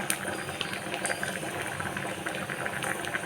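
Greens and onions sizzle and crackle steadily in a hot pan while being fried for a Tamil kootu, a continuous close frying hiss with small pops and no talk.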